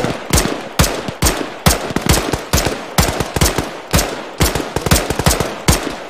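Automatic weapon fire in the video game Arma 3, with sharp bursts and single shots cracking in rapid, uneven succession, loud and close, continuing without pause across the whole stretch.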